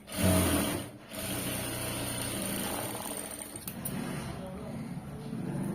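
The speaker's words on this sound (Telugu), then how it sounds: "ఇలా ఇంకొక స్టిచ్ వేసేయండి ఇలాగా" A sewing machine runs steadily while stitching a garment side joint, a close, even mechanical whir lasting several seconds after a brief louder start, with a voice speaking near the beginning.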